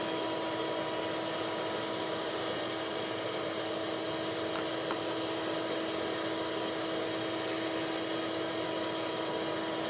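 A vacuum cleaner runs with a continuous, steady whooshing drone at moderate level, unbroken for the whole stretch, with no voices over it.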